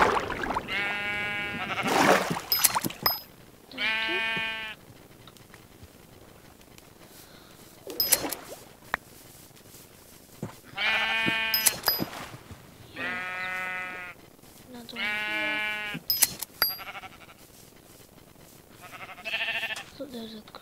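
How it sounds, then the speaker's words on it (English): Sheep bleating in Minecraft on the Hypixel server, several wavering bleats in separate bursts across about twenty seconds, loud and close, broken by sharp clicking game sounds and short gaps of quiet. "Oh, there's some sheep spawning"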